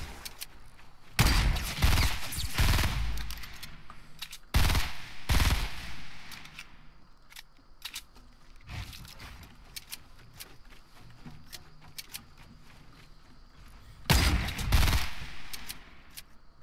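Rapid bursts of automatic gunfire and single shots crackle through a Fortnite match, heaviest in clustered volleys near the start and again near the end, with quieter in-game clatter between.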